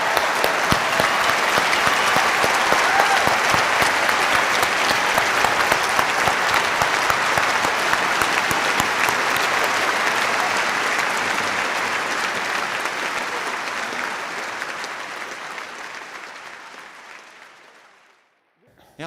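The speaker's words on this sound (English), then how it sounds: "Richard, come on back out for applause." An audience claps steadily for about eighteen seconds, a dense, loud, sustained wash of applause that thins and fades out near the end.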